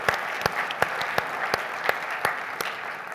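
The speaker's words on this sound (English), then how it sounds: "Give them a round of applause." Applause at an annual convening welcoming new alliance members, a steady crowd clapping with several loud, close individual claps popping out at regular intervals.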